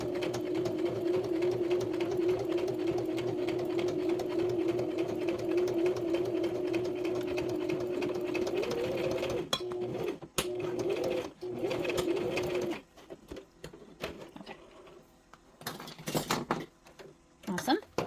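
A sewing machine stitching a quarter-inch seam down a purse shaker project, humming steadily for about nine seconds before stopping, followed by handling clatter and talking.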